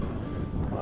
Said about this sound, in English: very windy out here. I don't know if that's affecting us, but it is very windy.